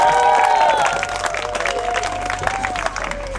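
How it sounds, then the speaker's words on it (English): An audience claps and cheers as Rob Gronkowski is introduced at a lecture in Winchester, loud and sustained applause with whoops, easing a little after the first second. "Let's give him a round of applause."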